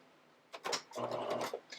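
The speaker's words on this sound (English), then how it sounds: "I'm just going to go ahead and really quickly baste it." A sewing machine quickly basting two curved fabric pieces for children's underwear, giving a short close whirring burst and a second longer run of rapid needle stitching, with brief pauses between.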